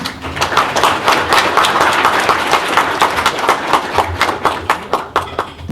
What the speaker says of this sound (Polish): Brawa za odwagę!